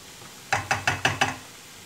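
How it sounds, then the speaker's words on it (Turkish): Five quick metallic knocks in an even rhythm as a frying pan lid clatters into place, close and fairly crisp against a quiet background. "Yine tavanın ağzını kapatacağım."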